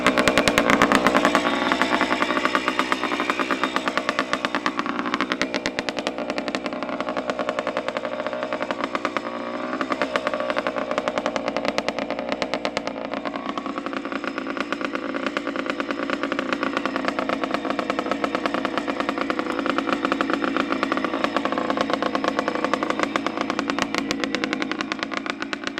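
A new-old-stock Montesa Cappra 125 VA motorcycle with its original Bing carburetor idles close by, a loud, rapid two-stroke exhaust burble that stays steady and unbroken with slight fluctuations in pitch.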